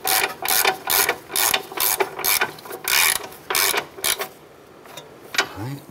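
A ratchet wrench with a 17 mm socket snugs the upper ball joint nuts on a 2008–2012 Honda Accord, giving a close, loud run of quick clicking bursts in an uneven rhythm before tapering off.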